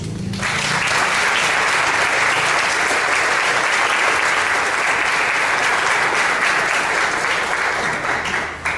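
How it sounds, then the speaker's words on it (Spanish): An audience at the opening session of a university sociology graduate seminar at UFSCar gives a long, loud, sustained round of applause, thick and even throughout before tapering at the very end. "pedir talvez, quem sabe, uma salva de palmas"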